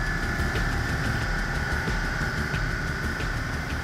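A Bentley Continental GT W12 engine runs on a factory test bench, a loud, steady, close mechanical drone with a continuous even hum and no pauses.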